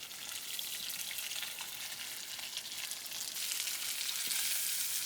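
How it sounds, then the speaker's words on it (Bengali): Hachra fish frying in hot oil, a steady dense crackling sizzle that holds even throughout and swells a little louder toward the end, close by with no voices. "তেল গরম হয়েছে, এখন আমি মাছটা দিয়ে দেবো তেলে ভাজতে"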